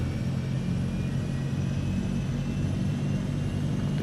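A twin-engine propeller aircraft in Microsoft Flight Simulator 2024 runs at full power near 3,500 RPM, giving a steady, dense, loud droning rumble with a constant low hum and no pauses.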